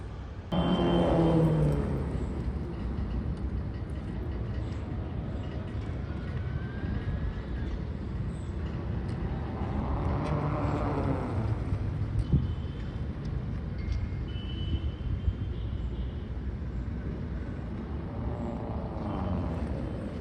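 An electric Rhino TX scooter-motorcycle is ridden at the 2023 India eMobility Show, its steady whirring drone rising and falling in pitch with broad road and wind noise throughout, no talking.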